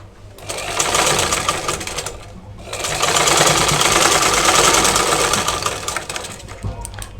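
Sewing machine stitching blouse fabric, two close, loud bursts of rapid needle chatter, the first short and the second longer, separated by a brief pause.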